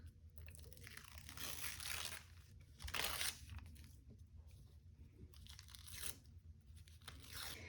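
Paper is peeled and torn away from a surface in several bursts of crisp ripping and crinkling, close by and fairly quiet, with softer rustling between the tears.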